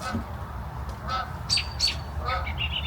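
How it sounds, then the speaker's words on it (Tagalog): A duck quacking several times in short nasal calls against a steady low background hum, loud and fairly close, with a child nearby. "That's a duck."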